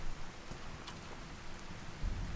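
Steady light rainfall in the video game Skyrim, a soft, even hiss with faint patter heard alone at low level.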